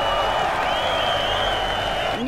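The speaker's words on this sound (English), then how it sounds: "let us cheer him to show our appreciation" A game crowd in Road 96 cheers for the president, a steady dense roar of applause and voices with a sustained whistle-like tone above, loud and continuous throughout.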